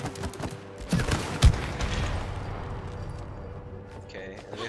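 Gunfire in the video game It Takes Two: a dense burst of rapid shots around the first second and a half, with a heavy boom, then a steady rumbling wash of game sound fading under it.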